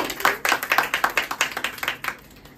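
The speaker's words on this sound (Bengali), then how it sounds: "বেস্ট অফ লাক সবার জন্য, জোরে হাততালি" A small group claps together in a quick, fairly even rhythm of about a dozen sharp hand claps at close range, with no talk.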